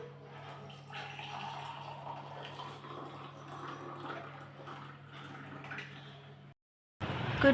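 Water splashes and trickles steadily while plants are watered and windows washed at home, a continuous close wash of flowing water with a low hum beneath, broken by a brief silence before a louder burst at the end.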